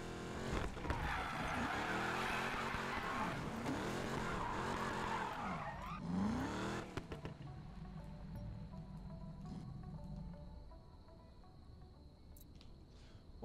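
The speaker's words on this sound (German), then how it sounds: "Geht schon mal an, das Auto." A Chevrolet Camaro SS engine in Need for Speed Payback starts, revs hard with rising and falling pitch, then settles into a lower, steady idle rumble.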